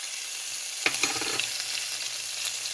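Hing, green chillies and turmeric sizzle in hot oil for a spicy masala potato bhaji, with a sharp crackle as the spices hit the pan followed by steady frying hiss and light stirring, close and alone.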